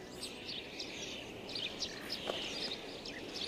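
Sparrows and starlings chirp and call around nests dug into a soft earth wall among eroded pillars, with scattered short tweets, faint and somewhat distant over a steady hiss of open-air background.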